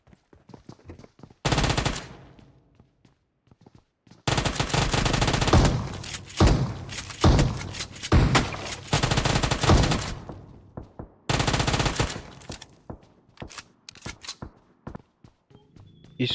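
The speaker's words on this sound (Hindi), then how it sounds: "अब आगे से फायर होता है" Bursts of automatic gunfire in the mobile battle-royale game PUBG Mobile, several long rapid volleys separated by short quiet gaps, loud and close with faint footsteps in between.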